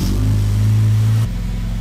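A Honda Civic Type R EP3 engine runs loud and close, holding a steady higher-pitched rev for about a second before dropping abruptly to a lower, rougher idle.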